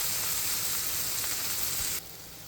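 Masala fries in oil that has separated from a dhaba-style baby potato dum aloo curry, a dense hissing sizzle that fills the clip and then abruptly softens near the end.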